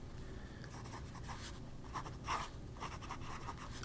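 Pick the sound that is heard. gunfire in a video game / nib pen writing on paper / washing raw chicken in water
nib pen writing on paper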